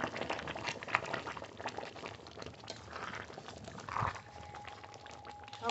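Mutton curry gravy bubbling and simmering in a pot, soft irregular blips and pops at low level, with a faint tone and a small knock near the end.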